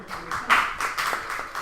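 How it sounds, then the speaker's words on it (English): Students in a classroom clap briefly after a quiz question, a short run of scattered, fairly close claps in uneven bursts. "Let me know by your applause."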